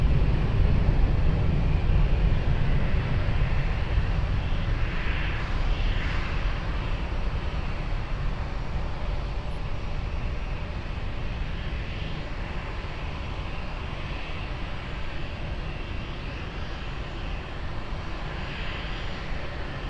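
A fixed-wing airliner taking off from runway 20 at Lisbon Airport, heard as a loud, sustained engine roar that eases off gradually as it moves away.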